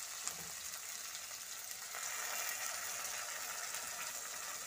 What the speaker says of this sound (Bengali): তো এবারে আমি মশলাটা দিয়ে দিচ্ছি